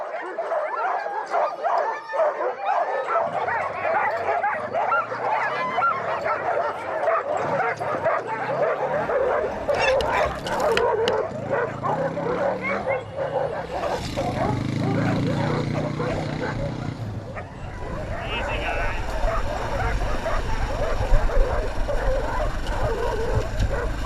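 A pack of sled dogs barks, yips and whines excitedly and continuously, a dense overlapping chorus with a motorcycle engine rumbling beneath and voices mixed in, in Alaska.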